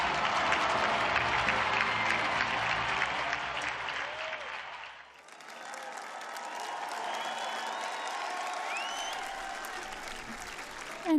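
A large crowd at a World Youth Day volunteers' meeting in Lisbon claps and cheers for several seconds, then the applause drops away into a quieter, distant murmur of the gathering with faint whistles.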